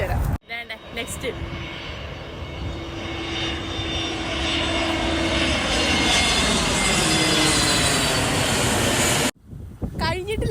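An airplane passes overhead near an airport with a loud, sustained engine roar that swells and holds for several seconds before cutting off.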